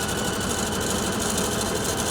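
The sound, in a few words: Pfaff Icon sewing machine sewing a pattern repeat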